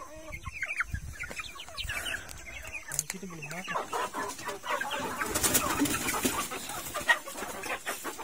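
Free-range village chickens cluck and squabble close by while being fed corn, busy overlapping calls and scratching throughout, with a person talking over them.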